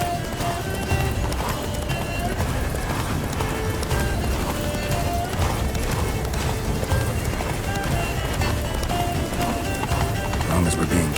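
Roach, Geralt's horse in The Witcher 3, gallops in a fast, steady run of hoofbeats that continues under spoken dialogue and game noise.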